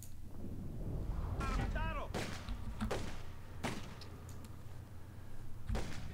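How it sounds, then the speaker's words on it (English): Gunfire aimed at the player in The Godfather II, several heavy thumping shots in irregular bursts over a steady low background, with a voice speaking between them. "Okay, we are being shot at, but that's okay."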